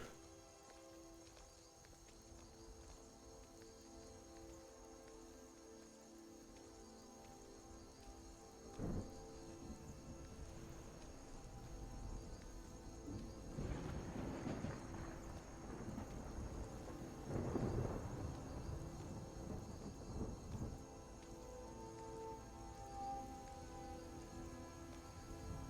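Steady rain pours in a video game town with a meadery, with deep thunder rumbling in several rolling swells partway through; no talking.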